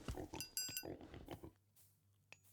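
A pig in a video game gives several quick, snorting grunts and oinks close up, fading to quiet hum toward the end.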